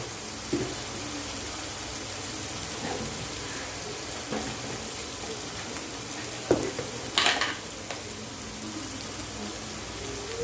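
Kurdai dry bhaji frying in a pan with turmeric and coriander powder, a steady soft sizzle throughout with a few brief scraping and stirring knocks, no talk.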